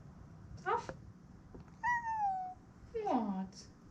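A pet cat in an old Irish farmhouse gives a few short meows, moderately close, with pauses between calls and faint room noise beneath.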